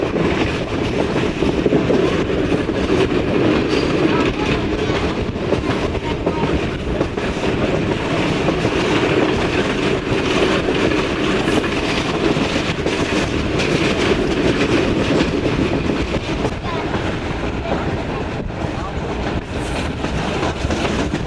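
GHB train coaches bounce along the line from Rawalpindi to Havelian, a loud continuous rumble and rattle heard from inside the train with wind buffeting the microphone and no pauses.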